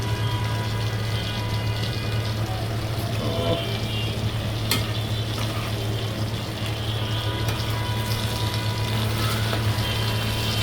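Pieces of fish frying in hot oil in a pan, a steady continuous sizzle with a low hum underneath and a few faint clinks, close and even throughout.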